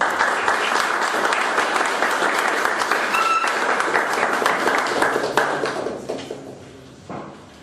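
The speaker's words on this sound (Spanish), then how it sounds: "Démosle un fuerte aplauso y la bienvenida a don Eli." A crowd applauds steadily for several seconds, the clapping dense and even before gradually thinning out and fading.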